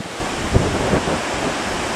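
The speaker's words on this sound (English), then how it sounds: "it's looking pretty windy. It's the windiest I've seen it for quite some time here" A strong, steady wind roars and buffets the microphone, with a couple of louder gusts early on and no voices.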